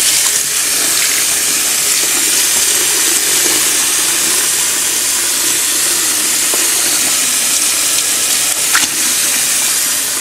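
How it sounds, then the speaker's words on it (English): Cold tap water runs steadily from a faucet over cooked food in a kitchen sink, a loud, even hiss and splash that continues unbroken without any talk. "take this and run some cold water over it and let it cool down"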